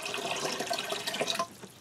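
Bleach pours into a container of water, giving a steady, close splashing and trickling that stops abruptly near the end, with no talk over it.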